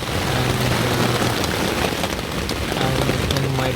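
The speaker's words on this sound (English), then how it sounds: "It's raining like shit" Heavy rain drums steadily on a camping tent pitched in the Jawadhu hills of Tamil Nadu, India, a dense, continuous patter that stays loud and close with no talk.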